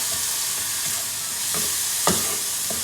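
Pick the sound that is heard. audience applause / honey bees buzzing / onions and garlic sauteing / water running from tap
onions and garlic sauteing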